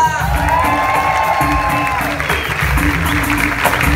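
Live show audience applauding and cheering at a dance event with a swing band, a dense steady clatter of clapping mixed with crowd voices and some whoops, loud and continuous throughout.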